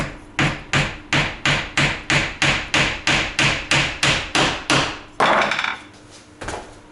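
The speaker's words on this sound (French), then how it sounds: "il suffit simplement sur la pointe du clou de l'écraser un peu et ensuite de clouer." A nail being hammered into wood: about fifteen evenly spaced, ringing blows in a steady rhythm, close and loud, followed by a rougher final knock and a short fading scrape, with no talk.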